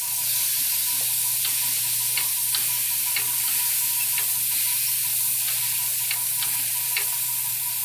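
Breakfast sausages fry in a pan with a steady, bright sizzle under a constant low hum, broken by occasional sharp pops and ticks of spitting fat; nobody speaks.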